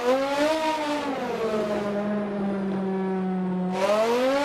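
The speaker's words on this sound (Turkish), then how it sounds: "Ve E60 M5 sesiyle şöyle videomuzu bitirelim." BMW E60 M5 V10 revving hard with wheelspin in Assetto Corsa: a loud, steady, high-pitched engine wail that sags slightly and holds under load, then rises again as the revs climb.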